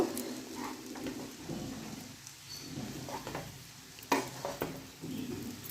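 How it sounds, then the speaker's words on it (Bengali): Cooked vegetarian pasta being tossed and stirred in a full wok, giving a steady soft scraping and rustling with faint sizzle and a sharper clink near the end, close and moderately loud. "ভালো করে মিশিয়ে নেব"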